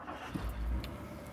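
A 1964 Ford Galaxie XL 500 convertible's engine turning over and catching, a brief low rumble swelling close by and settling into a quiet idle.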